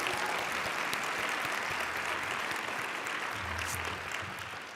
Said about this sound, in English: can we give them a round of applause for all the coffee?